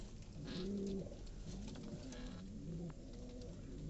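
Several pigeons coo outdoors in a village during intense summer heat, the low repeated coos overlapping at close to moderate range against a steady background.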